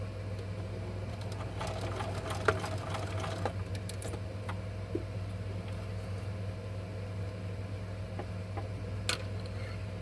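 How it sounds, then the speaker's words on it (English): A sewing machine stitches a fabric cuff bracelet, running with a continuous low hum and a faint rapid ticking of the needle, with a few soft clicks and taps scattered throughout at moderate volume. "So I'm going to turn around, sew back down."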